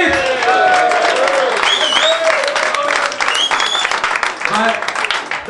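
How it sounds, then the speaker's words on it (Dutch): Applause for a new member at a Dutch carnival gathering, dense crowd clapping mixed with cheers and whistles, loud and sustained throughout. "Applaus voor ons nieuwe lid!"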